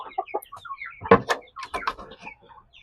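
Aseel fighting chickens clucking, a run of short, close clucks and chirps with one louder, harsher call midway and further scattered calls afterwards.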